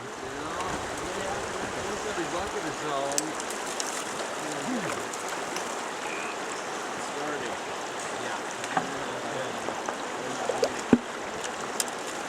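Steady broadband rush of water flowing through a gold-prospecting sluice box runs throughout, with occasional small splashes and clicks; no clear speech.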